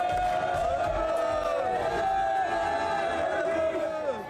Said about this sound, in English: Crowds swarming a Back Bay hotel for a chance to meet the French soccer team